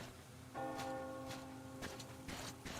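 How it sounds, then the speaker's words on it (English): A church bell in the ruined world of the video game Metro Exodus tolls faintly in the distance. A few soft, ringing strikes sound over a low ambient rumble. "Do you hear that bell?"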